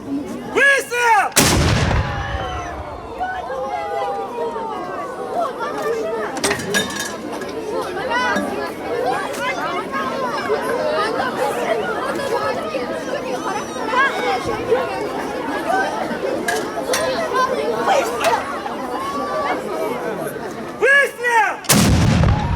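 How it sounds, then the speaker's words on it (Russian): Two sharp, loud gunshots ring out at a travelling military history exhibition for schoolchildren, one near the start and one near the end, with a crowd chattering steadily in between. "Выстрел!"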